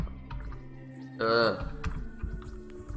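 Brief burst of typing on a computer keyboard with rapid clicks, surrounded by talking and low background sound.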